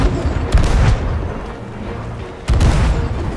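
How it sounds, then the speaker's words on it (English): Cannon fire from a galleon in a naval pirate video game battle, two heavy booming broadband blasts about two seconds apart, loud and close against a rumbling low background. "I'm gonna hit him with some chain shots"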